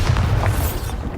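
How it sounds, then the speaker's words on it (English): The Bombarda explosion spell in the Hogwarts Legacy video game lands as one short, loud, booming burst with a deep low-end thump, heard close and alone. "Bombarda!"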